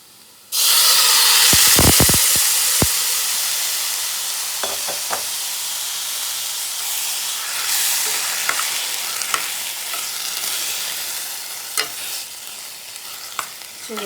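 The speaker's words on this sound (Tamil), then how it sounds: "இப்போ நம்ம வேக வச்சு வச்சுக்கிட்ட இந்த கூட்டை வச்சு இதில் மிக்ஸ் பண்ணிக்கலாம்." Cooked Kerala-style yellow pumpkin and cowpea kootu (elissery) is tipped into fried coconut in a hot pan, bursting into a loud, close hissing sizzle that settles into a steady fry with scraping stirs.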